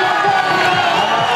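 A roadside crowd cheers for Contador at the start of a Giro d'Italia 2015 time trial stage, a loud, dense wall of shouting and whooping held steady through the brief moment.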